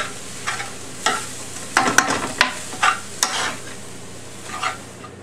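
Taco meat sizzling in a pan while a utensil scrapes and stirs it, giving a string of sharp scraping strokes over a steady close frying hiss.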